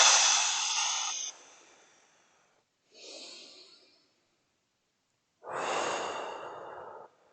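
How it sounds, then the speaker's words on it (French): Forceful exhalations blown out hard through the mouth as if to push something far away: one long breath, a short softer one, then another strong blow, close and clear, with no talk over them. "Soufflez, comme si vous aviez quelque chose devant vous et qu'il fallait le souffler le plus loin possible."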